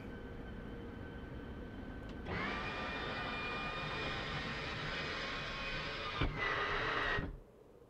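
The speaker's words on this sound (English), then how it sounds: "So let's get the aircraft started first." An F-16C Viper jet in the DCS flight simulator spools up from a quiet cockpit into a loud, steady whine and roar, then cuts off sharply near the end, with no voices over it.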